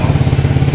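A Yamaha motorcycle engine runs loud and close with a steady, rapid rumbling pulse. The sound is a continuous mechanical idle with no voices over it.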